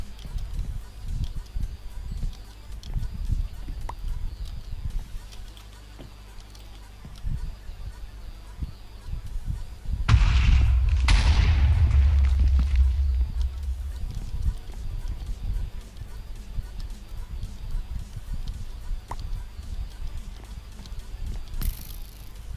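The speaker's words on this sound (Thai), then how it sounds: "ระเบิดทางขึ้นตัวเอง" A loud, sudden Minecraft explosion bursts out with a deep rumbling boom, lingering for a few seconds over quieter background game sounds.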